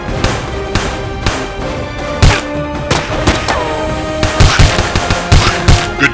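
Gunfire in the shooter video game Enemy Strike, loud bursts and single shots cracking repeatedly against enemy soldiers, with dense overlapping game sound effects throughout.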